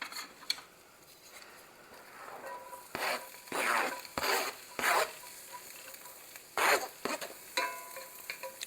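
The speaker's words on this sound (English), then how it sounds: "and saute my onions" Ground beef and onions sautéing in a pan, a soft steady sizzle broken by several close scraping strokes of a spatula stirring the mixture, loud bursts with quieter gaps between, no talking.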